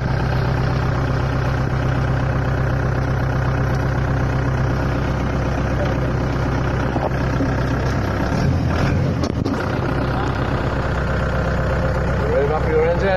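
A tractor engine runs steadily at idle close by, a constant droning rumble that barely changes throughout, with a voice talking over it.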